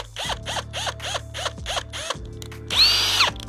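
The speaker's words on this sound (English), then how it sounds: "And then now I know when I drill to the tape." Power drill boring into wood while building a homemade wooden squat rack for a garage gym, a close, loud series of about seven short whirring bursts followed by a longer high-pitched sustained drilling run.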